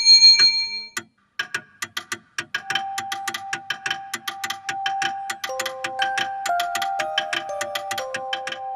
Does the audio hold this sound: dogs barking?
no